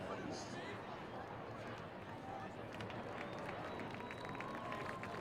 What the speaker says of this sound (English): Round of applause, our first responders and active duty military